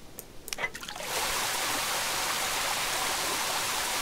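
Water streams steadily from an in-game water effect in the online horse game Star Stable Online, a continuous close rushing hiss that rises after a few soft clicks and then holds evenly with no talk.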